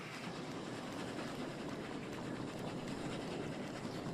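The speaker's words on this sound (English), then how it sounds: "Look how fast the train's moving." A fast-moving train in the video game Oddsparks rumbles with a steady, dense clatter of wheels on rails, continuous and moderately loud with no speech over it.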